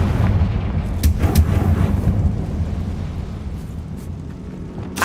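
Confringo blasting spell cast in Hogwarts Legacy, a heavy rumbling boom of explosion with a low roar that swells early and slowly fades, followed by a sharp crack at the end.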